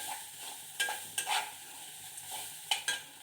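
A spoon scrapes and stirs roasted cashews in a pan for coconut rice, producing several distinct scraping strokes over a soft continuous sizzle, close and fairly quiet, with no talking.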